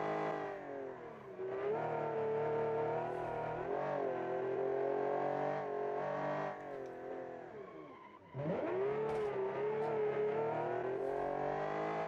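A 1960s sports car engine revs in a racing video game, loud and continuous, rising and falling through the gears with a sharp dip and fresh climb near the end, heard alone.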